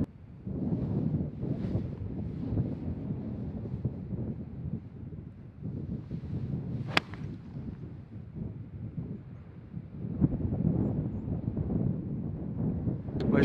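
Strong gusty wind buffets the microphone on the Royal St George's golf course, a loud, rumbling roar that surges and fades in waves, with a sharp tick or two breaking through and no voices heard.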